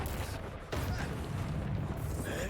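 Spell explosions from the Expulso spell in Hogwarts Legacy burst out as deep, loud booms, with two blasts close together. A player shouts over the impacts.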